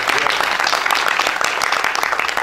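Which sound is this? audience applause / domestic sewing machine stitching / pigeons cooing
audience applause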